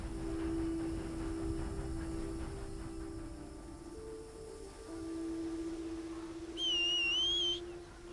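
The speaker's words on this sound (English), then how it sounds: "Now here's that urgent long whistle call again" In Red Dead Online, a steady low game drone runs beneath, then a single loud, wavering high whistle sounds for about a second to call a horse.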